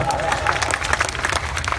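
A mushaira audience claps in a brief burst of applause, with dense, fairly near hand claps mixed with a murmur of voices.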